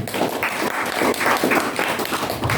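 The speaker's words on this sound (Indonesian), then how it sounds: "Amin. Tepuk tangan." A church congregation at a Pentecostal worship service in Pagedangan breaks into applause, a dense, steady wash of many hands clapping together, close and lively, without speech over it.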